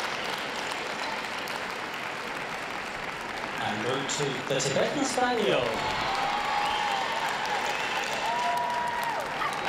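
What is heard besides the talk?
applause at dog show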